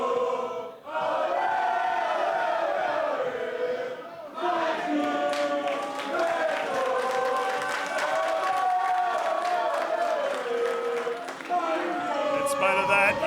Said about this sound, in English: while the crowd is still enjoying itself